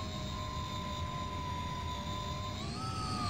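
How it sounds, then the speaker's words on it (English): A plane in Microsoft Flight Simulator flying along the coastline between Nigeria and Gabon gives a steady buzzing engine drone with a sustained whine that rises slightly in pitch near the end. No one speaks. "Whose plane is making buzzing noises?"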